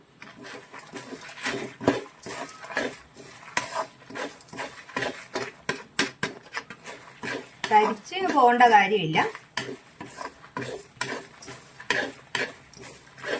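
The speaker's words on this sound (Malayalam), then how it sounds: "നമ്മൾ ഇതിലേക്ക് ചെമ്മീനും കൂടിയിട്ട് ഒന്ന് നന്നായിട്ട് യോജിപ്പിക്കുവാണ്" Prawns are stirred into roasted chutney powder in a pan, giving a series of scraping, rustling strokes under steady nearby talk, with one brief louder squeaky scrape partway through.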